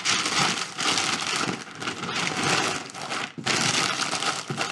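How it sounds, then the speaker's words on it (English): Loud, crisp crinkling and crushing of paper close up, in repeated bursts with a short pause near the end. "I'm going to kind of crumple it up."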